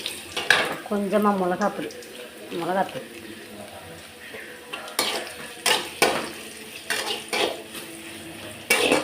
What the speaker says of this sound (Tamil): உப்பு போட்டு வறுத்துக்கிடணும்.